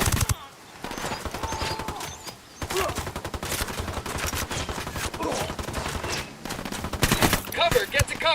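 Submachine gun fire in the video game Ghost Recon Wildlands, with sustained rapid bursts and a fusillade of shots, loud and near, continuing over several seconds with game voices mixed in.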